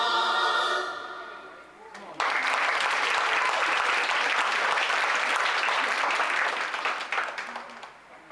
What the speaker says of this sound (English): Please give another round of applause to all of our amazingly talented artists